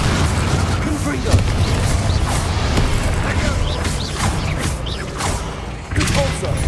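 Confringo fire spell explosions in the Hogwarts Legacy video game, a dense, loud roar of blasts, whooshes and crackling bursts running throughout, with spoken voices mixed in.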